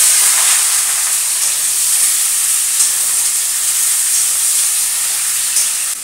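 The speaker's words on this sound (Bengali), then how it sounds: "আমার তেলটা কিন্তু গরম হয়ে গেছে। এবার এই সবজিগুলো দিয়ে দিচ্ছি।" Pointed gourd and potato pieces fry in hot oil, giving a loud, steady sizzling hiss that holds evenly for several seconds with no talking.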